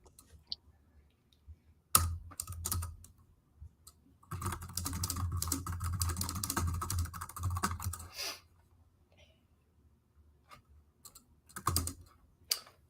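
Typing on a computer keyboard in bursts: scattered clicks, then a long dense stretch of rapid keystrokes, a pause, and a few more quick taps, close and clear with no talk.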